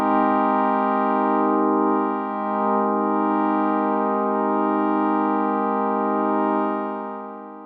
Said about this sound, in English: Next, I'm going to detune the operators using the detune.